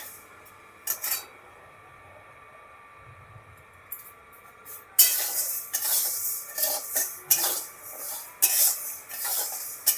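Sago pearls fry in a pan, giving a soft crackle under repeated spoon scrapes and stirring clatter that grow busier in the second half, with a few quiet clinks earlier and no talking.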